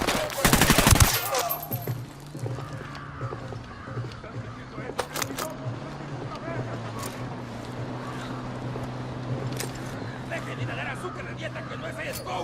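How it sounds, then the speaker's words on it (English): Gunfire from a watchtower in Ghost Recon Wildlands, opening with a loud close burst of shots, then sporadic distant cracks over a steady engine-like drone while voices talk throughout. "Taking fire from inside the watchtower."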